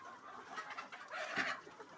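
Desi chickens clucking on an integrated goat farm, a steady run of soft cackles and clucks close by, rising briefly louder midway, with no talking.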